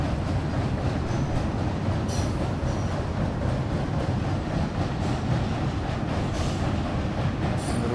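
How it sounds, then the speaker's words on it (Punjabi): A train rolls over a bridge on the flooded Beas River in a steady, heavy rumble of wheels on rails, loud and continuous throughout, with faint metallic squeals above. "ਪੂਰੇ ਟ੍ਰੇਨ ਲੰਘ ਰਹੀ ਆ"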